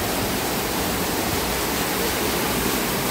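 A waterfall at an eco-tourism villa falls roars steadily and loudly, a dense broadband rush of falling water that fills the whole scene with no pauses or voices.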